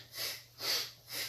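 Breath drawn in through the nose during a Kundalini yoga exercise, three soft airy inhales rising and fading in a steady slow rhythm, close and quiet with a low hum underneath.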